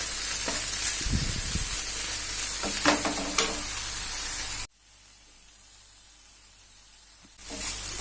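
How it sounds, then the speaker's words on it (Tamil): Banana flower sautéing over a low flame in a pan, a steady close frying sizzle with a few stirring scrapes, briefly dropping to near quiet before the sizzle returns; no talking. "நல்லா தண்ணி வதங்குற அளவுக்கு இதை நல்லா சிம்மில் வச்சு வதக்கிடுங்க"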